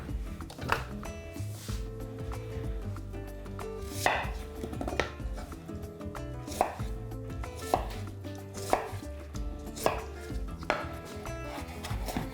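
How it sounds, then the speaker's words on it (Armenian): Knife chopping two onions very finely on a cutting board, steady bursts of quick close taps with brief pauses between runs, loud and alone with no talk. "Եվ կտրատում 2 գլուխ սոխ"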